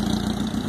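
A carbureted Honda Hornet motorcycle engine fitted with a sport exhaust idles with a steady, loud, close, throbbing burble.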